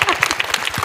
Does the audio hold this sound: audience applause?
yes